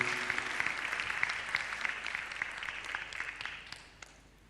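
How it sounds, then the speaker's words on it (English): A crowd applauds steadily for a few seconds, the clapping thinning and fading out toward the end. "One more round of applause to this milestone."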